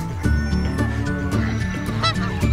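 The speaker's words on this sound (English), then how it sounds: "Another goose." Goose honking repeatedly in a farmyard, loud and close, a series of harsh nasal calls with other fowl faintly around.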